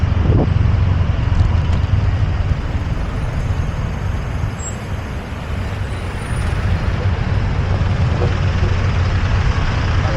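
Steady heavy road traffic on C3, a congested Manila-area road, with dense rumbling engine noise from cars, buses and trucks and a hiss of air brakes, continuous and loud throughout.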